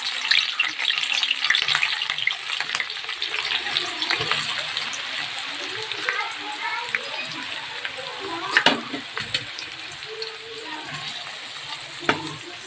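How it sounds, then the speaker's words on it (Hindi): Chopped onions sizzle and crackle in hot refined oil, a busy close frying hiss with stirring clatter and occasional louder spatters running throughout. "तो रिफाइंड ऑयल भी हमारा गर्म हो चुका है, और हम डाल देंगे प्याज इसमें, सारी प्याज हम फिर फ्राई करेंगे।"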